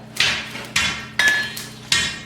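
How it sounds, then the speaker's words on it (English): A blacksmith's hammer strikes hot metal four times at an even, unhurried pace. Each blow is loud and close, with a sharp metallic clang that rings briefly before the next strike. "So this is what blacksmithing is all about. A hammer and hot metal."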